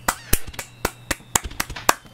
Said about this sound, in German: Applaus für unseren David